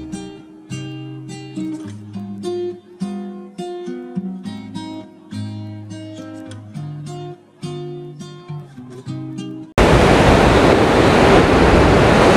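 Music with plucked, rhythmic notes plays first. It is abruptly replaced by a loud, constant roar of ocean waves and surf at Guarujá beach, buffeted by wind.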